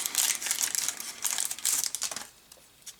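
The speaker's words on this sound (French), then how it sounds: "On attaque le troisième booster de cette ouverture." Foil wrapper of a Dragon Ball Super World Martial Arts Tournament card booster pack crinkling and tearing open close by, a busy run of crackles that thins out near the end.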